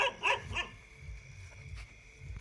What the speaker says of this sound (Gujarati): આ કૂતરોને શીખવાડવું છે 2 વાગે ભ ભ કરશે